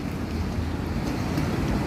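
Speedboat idling under the Ampera Bridge on the Musi River, a steady low rumble with wind and water noise and no talk.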